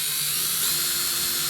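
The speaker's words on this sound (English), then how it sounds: "I'm going to attach the antenna using the number 10 socket." A power driver fitted with a number 10 socket whirs in a steady, high, continuous whine while fastening an outdoor TV antenna, close and alone for a brief burst.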